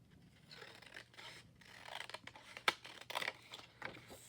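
Scissors snipping through paper for a collage, a series of soft close cuts and rustles with one sharper snip near the middle, fairly quiet with no talking.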